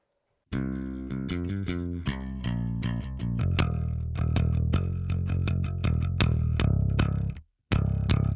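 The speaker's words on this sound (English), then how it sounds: "this is straight into the amp without distortion, without compression, without anything." Clean electric bass played straight into the amp with no distortion or compression, a steady run of plucked notes with a round, undistorted tone, fairly loud, ending with a brief pause and a final note.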